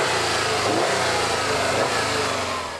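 A Subaru STi's 2.5-litre turbocharged boxer engine pulls hard under acceleration, a loud, steady, close-up roar that holds constant throughout with no pauses.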